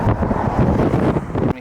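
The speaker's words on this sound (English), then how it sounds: "I can't even know if you can see how windy it is right now" Strong wind buffets the microphone while cycling along Iceland's Ring Road, a loud, continuous rumbling roar that cuts off abruptly at the end.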